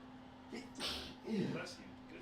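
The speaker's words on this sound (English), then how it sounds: "I was also waiting for that sneeze to come." A single quick human sneeze sounds close and fairly soft, preceded by a short inhaled gasp, with quiet room background around it.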